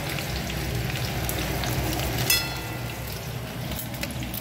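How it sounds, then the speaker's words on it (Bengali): Potato and carrot pieces fry in oil in a home kitchen pan, a continuous close crackling sizzle with one brief louder spatter partway through. "এখন আলু আর গাজরটা ভেজে ভাজছি।"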